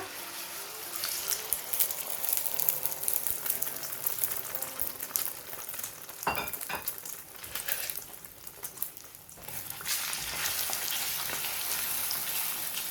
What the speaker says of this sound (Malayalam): ഓയിൽ ചൂടായതിലേക്ക് മുട്ട പതപ്പിച്ചത് ഒഴിച്ചു കൊടുക്കുക.